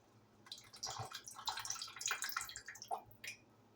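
Water poured out of a sauce jar into a sink, a splashing trickle of uneven spurts and drips over a few seconds, fairly close and moderately loud with no talk.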